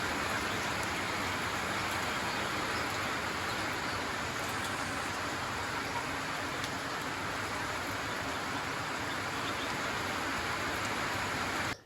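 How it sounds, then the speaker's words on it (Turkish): Heavy rain pours down steadily, a dense, even hiss of drops on surfaces that continues throughout without pause. "Bu sırada kuvvetli bir yağmur başladı."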